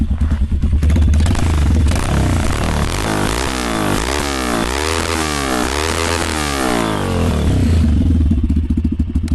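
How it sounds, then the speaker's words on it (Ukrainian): A Kove 150 pit bike engine runs loud and close for the whole stretch. A rough, steady idle climbs through several throttle revs in the middle, then falls back to idle with some mechanical clatter. "Послухаємо звук мотора."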